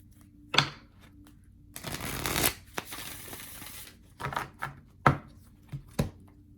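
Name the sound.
shuffling tarot cards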